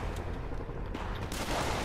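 Dense, continuous gunfire from heavy weapons in the Marvel's Spider-Man video game forms a loud, crackling barrage of overlapping bursts with no gaps.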